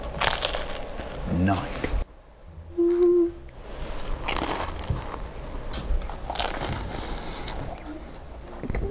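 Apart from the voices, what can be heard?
crunchy egg roll being bitten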